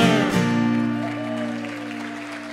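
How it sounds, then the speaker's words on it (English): Applause from a live folk concert audience at an outdoor pavilion after a singalong of an Irish drinking song, a ringing chord fading as steady broadband clapping carries on, fairly loud and even throughout. "How about a round of applause for our beginners?"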